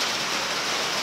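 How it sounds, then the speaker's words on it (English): Outdoor rain picking up, a steady dense hiss of drops falling on surfaces, loud and continuous, alone without talk. "rain's starting to pick up a little bit"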